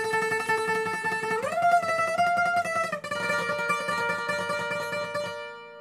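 Solo requinto guitar plays a riff at full speed, a crisp close line of plucked notes stepping up in pitch, holding, then settling lower before fading out.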